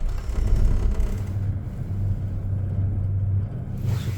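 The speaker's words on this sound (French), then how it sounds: "Circulation extrêmement ralentie" Slow road traffic in snow at night, heard from a Doppelmayr cable car between Créteil and Pointe, a loud steady low rumble of passing cars with no talking.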